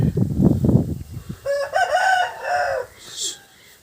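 A Bhimavaram rooster at a farm in Kanchikacherla, NTR district, crows once, clear and close. Some rough rustling and clucking come just before it.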